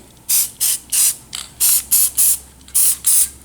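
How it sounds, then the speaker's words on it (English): Short hissing bursts of thin film lubricant sprayed onto a tool collet, about nine quick close puffs in an irregular rhythm, each lasting a fraction of a second, with no one talking. "you can place a light coating of thin film lubricant."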